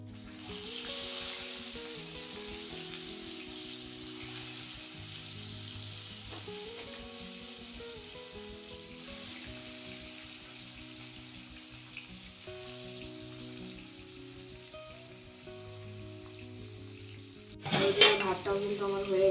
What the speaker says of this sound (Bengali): হলুদ তেলের মধ্যে দিয়ে গরম করে মিডিয়াম ফ্লেমে মাছ ভাজলে কিন্তু মাছটাও খুব সুন্দর ভাজা হয়